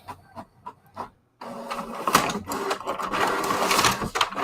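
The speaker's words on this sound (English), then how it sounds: "There goes my printer." A printer runs nearby: a few soft clicks, then a steady mechanical whirring with rhythmic feed clatters, fairly loud and with no talk over it.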